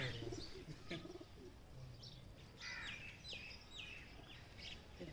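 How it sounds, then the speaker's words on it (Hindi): Kept pigeons coo softly in a quiet outdoor spot among farm animals, with several faint, low calls and a few higher chirps from other birds nearby. "यह देखे इधर कबूतर रखे हुए हैं"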